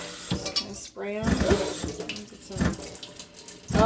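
A tap runs cold water at low pressure to rinse freshly picked dandelions in a sink, a close splashing flow with clattering dishes, broken up by talk.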